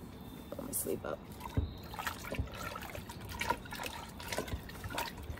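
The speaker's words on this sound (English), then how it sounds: "Soak it in the water." Maitake (hen of the woods) mushrooms soak in a basin of water and are stirred by hand, giving quiet close splashes, sloshes and trickles in irregular bursts.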